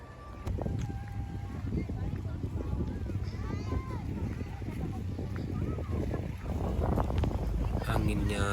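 Strong wind blows at Danau Biru lake in Indralaya, a steady, loud rushing roar buffeting the microphone throughout, with voices faintly mixed in beneath it.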